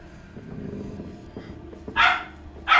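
A dog barks twice in a horror-themed Hogwarts Legacy mission, sharp close yaps standing out over a low murky game ambience and footsteps.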